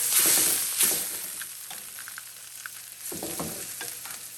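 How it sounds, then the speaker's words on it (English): Brisket sears in a hot pan, giving a close, steady sizzle with a few stirring or scraping bursts, loudest at the start and end, with no talking. "Come with me while we throw this into the pan to sear it off"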